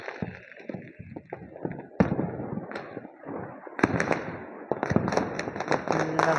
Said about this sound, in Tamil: ஃபுல்லாக பார்த்தீங்கன்னா சவுண்டு வந்துகிட்டே இருக்குது, பட்டாசு சவுண்டு.